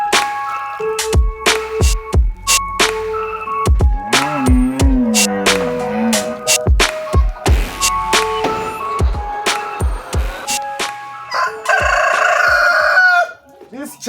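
Layer chickens on a poultry farm cluck loudly and repeatedly while a rooster crows several times, close and clear, with steady background activity throughout and no talking.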